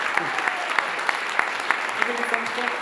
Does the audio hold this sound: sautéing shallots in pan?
no